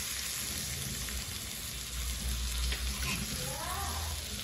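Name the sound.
surmai (kingfish) fish frying in a pan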